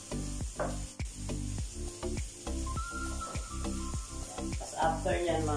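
Carrots fry and sizzle in a pan for pancit canton, stirred with repeated sharp scrapes and clacks of a utensil against the metal, steady and close, with a louder spatter near the end.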